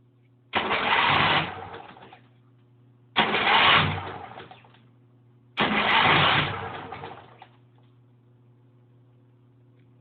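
Homemade offroad go-kart built from junk parts, its small engine cranked three times in a row; each attempt is a loud, rough burst of about a second that fades away, with a low steady hum underneath and no talking.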